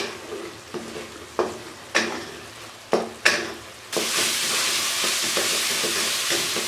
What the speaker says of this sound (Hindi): इसी तरह चम्मच चलाते हुए इसको मैं तकरीबन 2 से 3 मिनट तक भून लूँगी